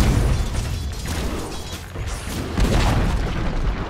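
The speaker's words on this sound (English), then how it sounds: "Dire's middle tower has fallen." Dota 2 match with a tower being destroyed: dense, loud booming crashes and bursts layered over continuous game effects, with a heavy impact swell near the end and no talk.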